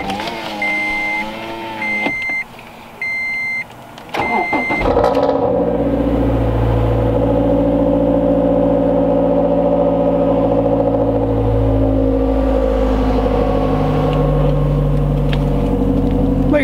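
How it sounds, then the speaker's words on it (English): A Scion tC gives a few electronic chime beeps, then cranks and catches on a cold start at about 50 degrees outside. It settles into a loud, steady, close-up idle that runs on alone. "So, you guys want to see a cold start? I know it's not much. I mean, it is a TC."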